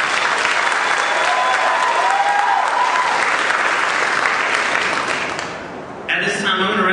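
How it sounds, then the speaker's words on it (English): Audience applause at a school symphonic band and wind ensemble spring concert, dense sustained clapping filling the hall for about six seconds, then fading as a voice begins speaking. "so let's give them a round of applause."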